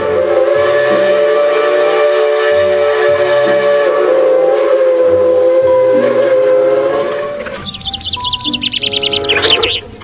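A toy train gives off a sustained electronic whistle tone over a looping stepped melody, then breaks into quick chirping, warbling toy-whistle bursts at close range.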